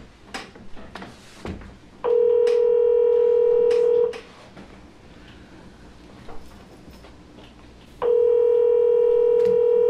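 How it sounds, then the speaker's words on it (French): Heavy black telephone ringing indoors: two loud, steady electronic ring bursts about two seconds each, separated by a pause with faint background rustle. "Pour atteindre le téléphone noir et pesant"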